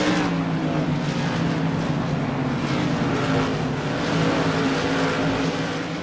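Modified race cars roar steadily around an oval at Lanier National Speedway, engines droning loud and continuous through the turns with a sustained, layered motor tone and no pauses.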